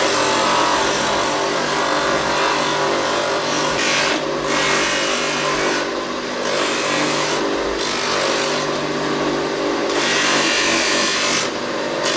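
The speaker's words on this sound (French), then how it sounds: "pour faire les derniers polissages et la finition" Hand polishing and finishing of a handmade craft item in a Madagascar workshop, a steady dry rubbing and rasping that runs without pause and stays close and loud, with no talk.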